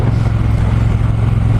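A Triumph T120 Bonneville motorcycle engine runs on a test ride, a loud, steady, low throbbing rumble with no break.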